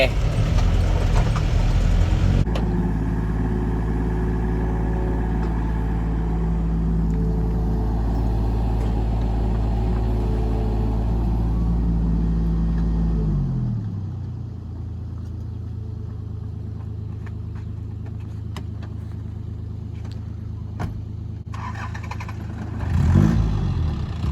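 A heavy excavator's diesel engine drones loudly and steadily for several seconds, then drops to a lower idle with occasional clanks from the machine.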